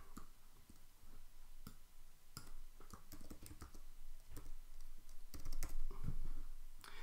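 Keys typed on a computer keyboard while filling in answers for a Microsoft Forms quiz: uneven bursts of close taps, quickening toward the end, with no one talking.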